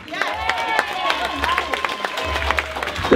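Wedding guests at a 37th anniversary celebration clap their hands in a steady, busy patter that runs throughout, mixed with crowd noise and a voice over a microphone.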